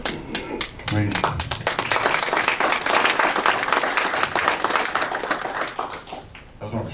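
An audience at a Republican political forum applauds, a dense burst of many hands clapping that holds loud and steady for several seconds before thinning out near the end.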